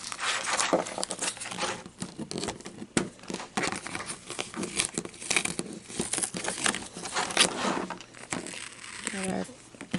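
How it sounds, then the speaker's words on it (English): Crinkly, tearing crackles from Cricut vinyl being peeled off a cutting mat fill the clip in close, uneven bursts, with soft talk mixed in. "And then we're just going to peel our vinyl."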